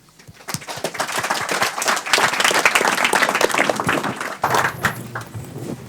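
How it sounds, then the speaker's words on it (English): Applause at a DevOps tech talk rises quickly from quiet into a full, sustained round of clapping from the audience welcoming the speaker, then thins slightly toward the end. "So give a warm applause for Nikola."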